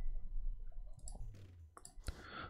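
Soft menu clicks from the FIFA Ultimate Team video game interface, a few brief, quiet ticks scattered over a faint background with no talk.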